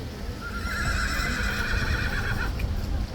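A horse neighs in a long, wavering whinny over a steady background rumble, with no speech.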